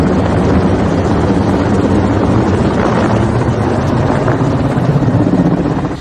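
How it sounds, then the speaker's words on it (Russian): Firefighting helicopters work over a burning hillside during a wildfire, a loud, steady rotor and engine roar with wind buffeting, continuous throughout without speech. "задействовали вертолеты."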